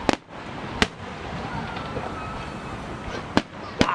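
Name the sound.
professional fireworks display exploding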